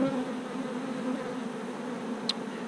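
Honeybees buzz steadily at a hive, a close, continuous drone of many wings with no speech.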